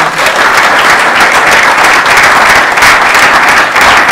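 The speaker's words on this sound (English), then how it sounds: "Huge applause." A startup meetup audience in Copenhagen breaks into loud, continuous applause after a tech founder's talk. Close, dense clapping fills the whole stretch with almost no talk over it.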